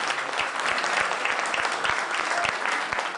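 A studio audience claps steadily in a full, even round of applause, dense and sustained throughout with a few sharper individual claps standing out.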